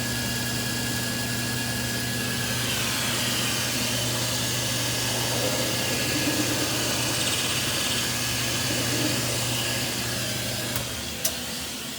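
A pro shop drill press bores a thumb hole into a bowling ball, a constant loud motor hum with steady tonal whine and grinding, easing off near the end.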